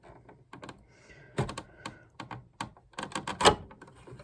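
An Olivetti Lettera 25 typewriter's cover is pulled off, giving a series of sharp plastic clicks and rattling snaps that build to a louder pop near the end, close and with no talking.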